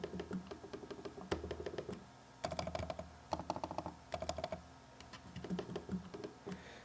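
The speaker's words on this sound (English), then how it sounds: "It's a soft type of click." Soft, muted clicks from a Logitech MX Master mouse button come in quick clusters with short pauses between, quiet and close with no other sound around them.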